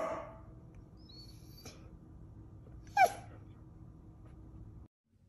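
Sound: dog reacting to owner barking at it

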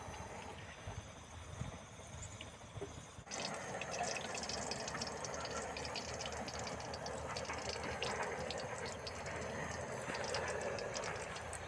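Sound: oil being poured into a karahi for red karahi

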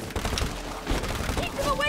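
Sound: gunfire in a video game

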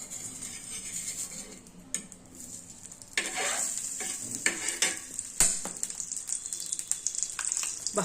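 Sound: tomato sandwich frying in ghee on a pan

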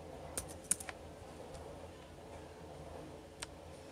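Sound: typing on a computer keyboard

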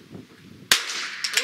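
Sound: gunshot and bullet impact on steel target, NRL22 rifle match

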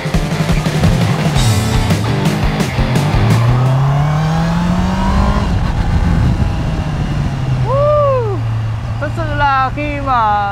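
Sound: Honda CBR650R motorcycle engine riding

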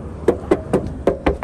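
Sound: knocking on a VAZ car's trunk lid

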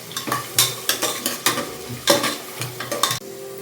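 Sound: onions frying and being stirred in a pan

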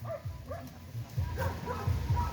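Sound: dog barking

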